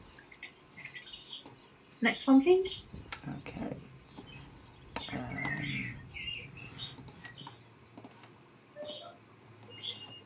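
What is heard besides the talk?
bird singing in a hedge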